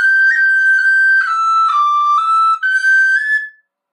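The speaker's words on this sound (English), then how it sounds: "Maybe get a couple of bounces in there as well." Tin whistle plays a bright, clear melodic phrase with short finger bounces breaking up the notes, close and loud, ending after about three and a half seconds.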